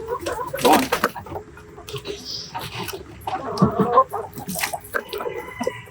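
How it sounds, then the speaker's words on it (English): Chickens cluck and squawk nearby in irregular bursts, mixed with rustling and some faint background voices. "So we usually have 18 chickens running around in here."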